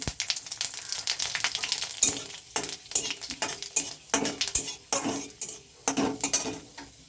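Dried red chillies and whole spices sizzle in hot oil as a spatula stirs and scrapes the pan, producing quick irregular clicks over a soft frying hiss, with no voices.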